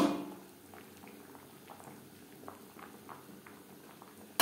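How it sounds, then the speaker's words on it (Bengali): Potatoes and cauliflower boil in a pot on a gas stove, giving a quiet, steady bubbling and soft popping throughout. "আলু ফুলকপি বেশ ভালো করে ফুটতে শুরু করে দিয়েছে।"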